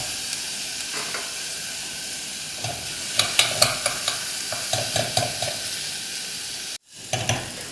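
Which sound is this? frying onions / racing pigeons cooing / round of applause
frying onions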